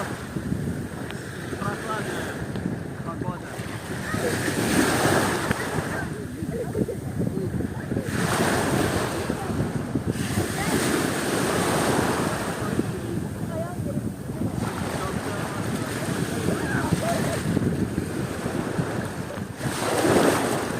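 Waves wash in and out rhythmically under steady wind buffeting the microphone, while people talk intermittently nearby.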